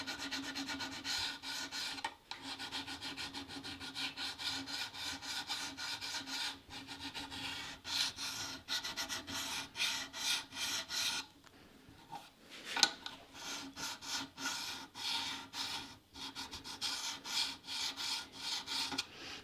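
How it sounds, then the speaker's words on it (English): A medium-fine grit sharpening stone rubs steadily across gun metal surfaces, a close continuous rasping scrape in repeated strokes with brief pauses, heard alone. "medium fine grit sharpening stone, and it allows me to kind of get in here on these surfaces without taking off too much material"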